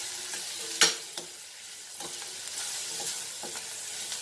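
Beef being mixed with dry spices in a pan for a Goan beef roast, with a steady soft sizzle and scattered scraping, stirring clicks from a spoon, one sharper knock near the start, no voices.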